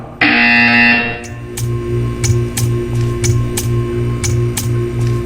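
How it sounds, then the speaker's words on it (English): A loud electronic buzzer tone sounds for about a second in the Portal 2 video game, then a steady background hum carries a series of regular ticking clicks about every half second. "You will hear a buzzer."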